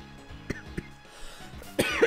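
Several sharp, close coughs come in short bursts, with brief pauses between them and a rougher coughing fit at the end.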